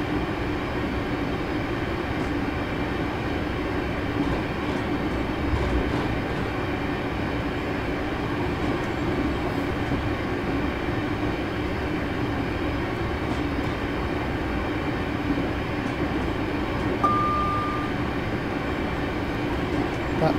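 A ScotRail Class 385 electric train on an evening service to Alloa in Train Simulator, with a steady rumbling run and a constant hum of motor and wheels throughout, broken by a brief tone about three-quarters of the way through and with no talk.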